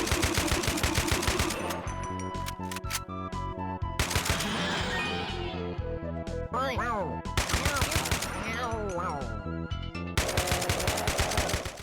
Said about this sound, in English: The assault rifle is seriously such a good weapon.